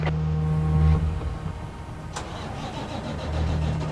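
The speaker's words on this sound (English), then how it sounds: "Let's see if it starts." A damaged gravel truck recovered from a ditch cranks and its engine starts, settling into a loud, steady low-pitched rumble close by with a few clanks over it and no talking.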